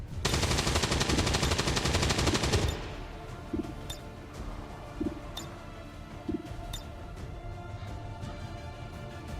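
Gunfire aimed at an enemy in XCOM 2: a dense, loud burst of rapid shots for nearly three seconds, then quieter ambience with a few brief, sharp hits.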